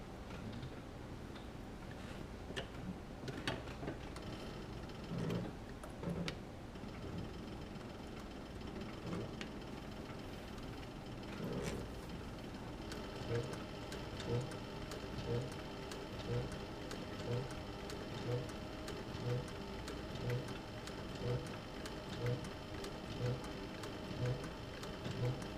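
A sewing machine stitches a leather bucket tote bag at a slow, steady pace, its needle strokes forming a regular pulsing rhythm that grows steadier in the second half, close by over a low background hum with no talk.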